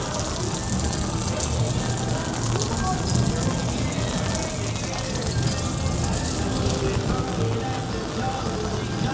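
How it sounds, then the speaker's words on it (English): Steady rain falling at Disneyland along the parade corridor, a loud, continuous hiss and patter on hard surfaces close by, with no break across the whole stretch. "it's raining"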